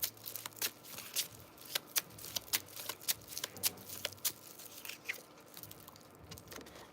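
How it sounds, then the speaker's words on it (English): Tarot cards being shuffled by hand, a quiet run of crisp riffling flicks and soft snaps in irregular bursts, close and alone without talk. "Promise you guys I'm shuffling. Like, shuffling really well."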